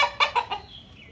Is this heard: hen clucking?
yes